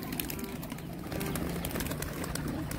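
Pigeons of a large breed coo softly in a loft, low murmuring calls repeating under a busy background of rustling and faint outdoor noise.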